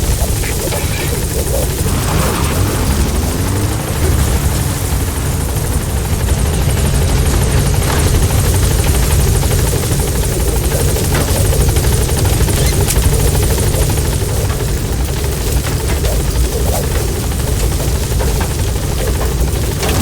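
A support helicopter in the video game Metal Gear Solid V thrums loudly and continuously with a close rotor drone for about twenty seconds, mixed with scattered gunfire and crashes.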